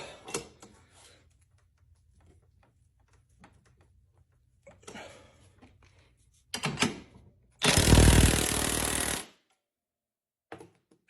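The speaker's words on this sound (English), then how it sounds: "the DeWalt is actually getting it so tight that it's slipping the nut in my vise jaws" A DeWalt power tool tightens a nut clamped in a vise, giving short bursts and one loud sustained run of whirring and impacting lasting over a second, with quiet gaps and handling noises between.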